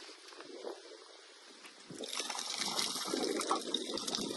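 Clean water flowing and gushing steadily, a soft trickle that swells into a louder, fuller rush halfway through, heard close with no voices.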